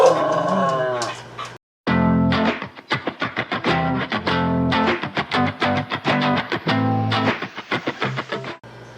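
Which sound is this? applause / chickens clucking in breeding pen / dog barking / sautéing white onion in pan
dog barking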